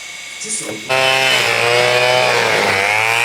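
A power tool trims trees and shrubs in a garden bed, starting abruptly after a soft lead-in and then running loud and steady with a buzzing, harmonic-rich whine that shifts slightly in pitch.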